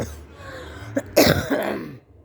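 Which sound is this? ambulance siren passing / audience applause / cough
cough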